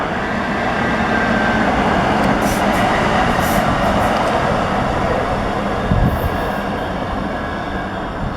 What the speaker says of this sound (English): we are in Vienna on the Vienna train